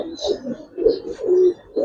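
Giribaz pigeons give soft, low cooing calls in several close, rhythmic bursts with brief pauses between them, heard nearby with nobody talking.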